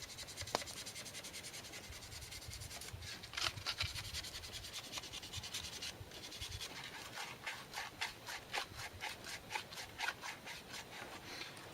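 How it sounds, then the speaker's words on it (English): Carved wooden spoon rubbed with sandpaper, close rhythmic scratchy strokes that turn into quicker regular back-and-forth sanding in the second half. "I'm going to start with some rougher sandpaper and then work my way down to smaller and smaller"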